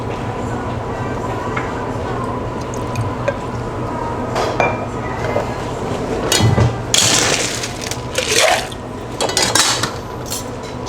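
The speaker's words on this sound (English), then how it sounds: "Stir well to chill." Cocktail of Irish gin, orange juice and Fernet-Branca stirred with ice in a mixing glass, giving scattered clinks and rattles over a steady background hum.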